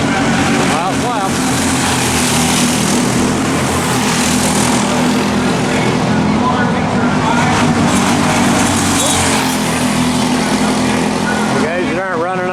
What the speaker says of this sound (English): you can see how unsettled the karts are sometimes when they come through here